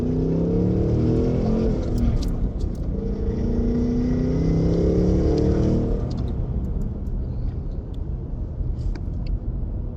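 A 2026 Ford Mustang GT with a six-speed manual revs hard while driving, its loud engine rising and falling through rev-matched shifts with a steady deep rumble and no talking.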